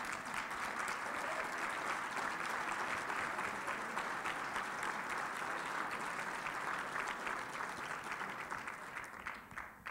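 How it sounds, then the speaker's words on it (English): Audience at a conservative conference applauding, steady dense clapping from a large room that holds for about ten seconds before thinning slightly at the end. "And they all deserve our applause."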